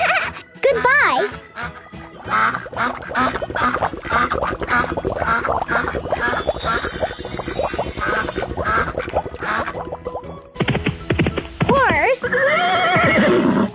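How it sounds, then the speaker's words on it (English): A horse neighs and whinnies in loud, repeated bursts, mixed with voices speaking over and between the calls. "Horse."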